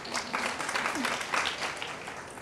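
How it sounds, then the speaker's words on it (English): Audience applause at a media and entertainment conference session, a steady wash of many hands clapping through the whole stretch, moderately loud with no pause. "Yeah, it is worth applauding."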